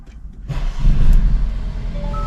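A Mercedes-Benz CLA250 4Matic gasoline engine idles with a low, steady hum, heard close with the windows open, with a faint high beeping tone coming in near the end.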